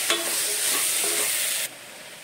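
Tomatoes stir and fry in a potato kurma curry, giving a close, loud sizzle with a few scraping stirs of a spoon in the pan before the hiss drops suddenly quieter.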